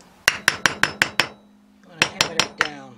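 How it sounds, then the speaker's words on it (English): Sharp metallic hammer blows driving a secondary pulley down on a bench during a JF011E / RE0F10A CVT transmission rebuild: a rapid run of six strikes, a pause, then another run of strikes, loud and close. "going to hammer that down"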